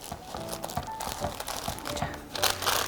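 Parchment paper crinkling and rustling as it is folded around a homemade jalapeño chicken tender snack wrap, a continuous close crackle with soft thumps of handling throughout.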